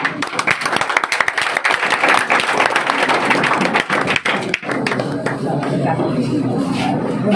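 A classroom of children and teachers claps at a Teachers' Day celebration just before cake cutting, an uneven, close burst of many hands that thins out toward the end, mixed with scattered thumps and chatter.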